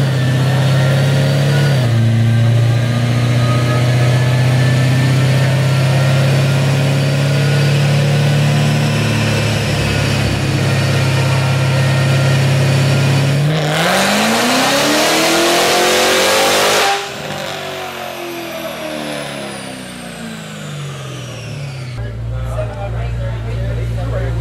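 A car engine revving hard on a dyno at a horsepower event, with tires and rollers spinning: a loud, steady high-rpm roar that climbs, surges through a gear change and then drops back toward idle, with crowd noise around it.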